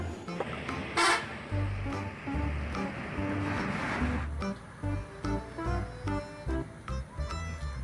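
A bus horn honks in a series of short, repeated blasts amid traffic noise, loud and close.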